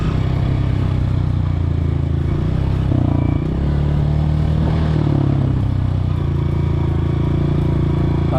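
A motocross motorbike ridden by a beginner learning the basics and taking turns, its engine droning steadily and loudly throughout with slight shifts in pitch as the throttle varies, with no talking.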